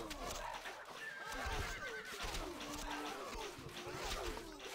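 A horse neighs in the video game Stronghold Crusader, a clear whinny rising over a busy game soundscape with hoof clatter and background noise.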